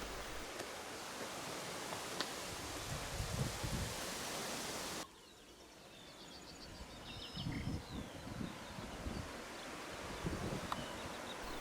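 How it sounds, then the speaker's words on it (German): Strong, stormy wind gusting across an open lucerne field during a roe buck hunt, a steady broadband roar with rustling surges that rise and fall, loud and close throughout with no voices. "Der Wind war noch immer stark, ja sogar stürmisch wie am Vortag."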